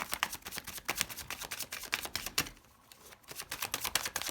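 Tarot cards are handled and drawn, producing quick papery flicks and soft taps in rapid bursts with a brief lull midway, close and fairly quiet.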